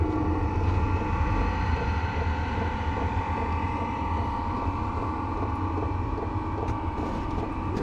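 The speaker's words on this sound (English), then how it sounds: "Here's the fuel pump. Oh yeah, she's kicking in now." Polar Pal heater with its fuel pump kicking in inside a 14 by 18 uninsulated shed, giving a steady, close mechanical hum and rumble that holds evenly throughout.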